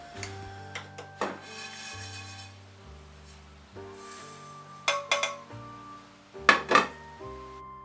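Toasted sesame seeds being scraped from a pan into a small bowl, a string of light metallic clinks, taps and scrapes of a spoon against cookware, close and sporadic with quiet gaps between.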